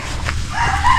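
Chickens cluck on a farm and a rooster crows faintly in the background, with outdoor ambience throughout and no talking.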